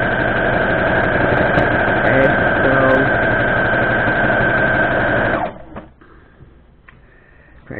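Sewing machine stitching the border of a Dresden Plate quilt block, a steady loud motor whir running continuously for about five seconds before stopping abruptly, followed by quiet handling sounds.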